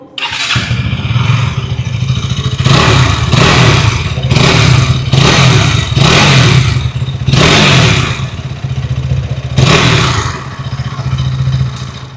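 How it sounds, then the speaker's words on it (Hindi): A 2026 KTM Duke 200 motorcycle idles with a loud, close exhaust note that swells into about six sharp throttle blips, each rev rising and falling back to a steady idle, with no talking. "पहले सुन लेते हैं ड्यूक 200 की एग्जॉस्ट नोट।"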